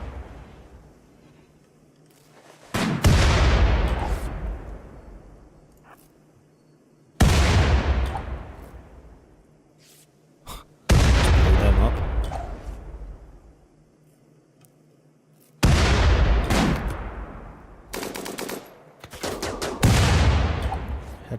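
Heavy gunfire bursts in the video game RimWorld, several loud volleys at intervals, each a sharp crack trailing into a long decaying roll, with quiet gaps between and no talk over them.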